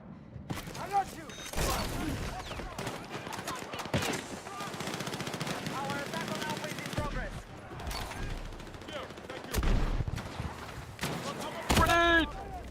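Rapid bursts of automatic gunfire and individual shots crackle through a Counter-Strike 2 match, close and loud in repeated volleys, with someone talking over much of the shooting.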